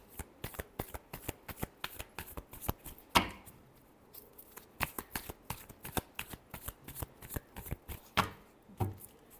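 Tarot cards shuffled by hand at close range, a dense run of soft quick riffling flicks and taps with a couple of louder slaps, no talking.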